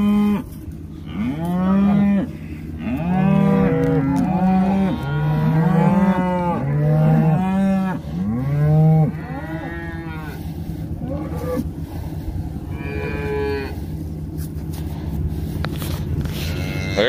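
Cattle moo repeatedly and loudly, overlapping calls from several cows close by as the herd is let out to pasture, fading to scattered lowing over a steady engine hum from a tractor.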